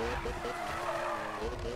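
Drifting car in Need for Speed 2015, a tuned RX7 set up for drift with a swapped turbocharger, its tyres squealing in a steady, loud skid over continuous engine noise.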